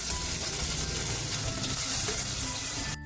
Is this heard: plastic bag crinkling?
no